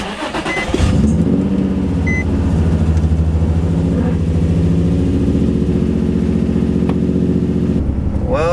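Nissan 350z engine cranks briefly and catches, then runs at a steady, fairly loud idle close by after a variable valve timing solenoid install.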